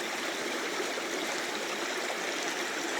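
Steady flowing stream water with a continuous broadband rush and gurgle, close and moderately loud, with no voices over it.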